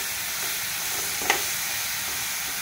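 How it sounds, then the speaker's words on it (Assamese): Sliced bananas fry in ghee in a wok, a steady close sizzle and hiss throughout with one brief stir or scrape in the middle. "কাটি ৰখা কলখিনি সেই ঘিউ দিয়া কেৰাহীখনতে অলপ দেৰি ভাজি ল'ব"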